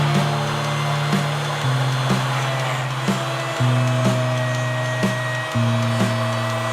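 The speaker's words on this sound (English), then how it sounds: "using a straight cutting bit on my router, I'll just cut the mortise" A wood router fitted with a straight cutting bit plunges into oak to cut a mortise. It gives a loud, steady motor whine whose pitch drops and rises in distinct steps as the bit bites into the wood and frees up, sounding close and continuous.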